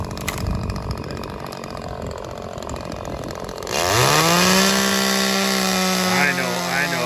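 Chainsaw cutting firewood at a campsite, first a muffled idle under voices, then the engine revs up loudly and bites into the wood for several seconds before easing off.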